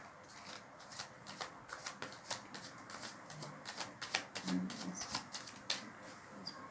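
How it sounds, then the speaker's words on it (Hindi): Tarot cards are shuffled and drawn, giving a rapid, dense patter of flicking and riffling card sounds, close and continuous for several seconds, with a faint voice now and then beneath. "2 कार्ड और निकालती हूँ।"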